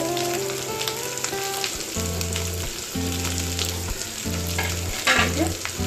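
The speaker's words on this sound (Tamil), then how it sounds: "போட்டு நல்லா கிண்டிக்கணும்." Masala mixture with turmeric and salt frying and being stirred in a pan for masala paratha, a steady loud sizzle with scraping stir strokes throughout and no talk.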